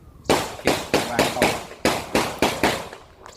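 A Smith & Wesson 686-6 revolver fires .357 Magnum JHP rounds at a steel armor plate outdoors, about ten sharp, loud, evenly spaced shots in quick succession, each with a short ringing decay.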